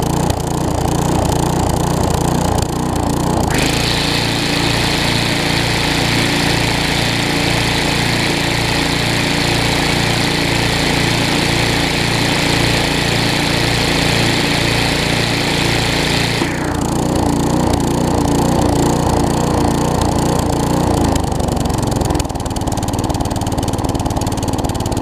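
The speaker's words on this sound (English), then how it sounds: "That is this weed trimmer." A Tecumseh-engined weed trimmer runs loud and close, its steady motor drone rising into a smoother, higher-pitched whine for several seconds under load before dropping back to a rougher idle.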